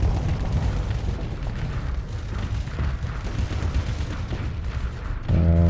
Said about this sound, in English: Fire your missiles at me.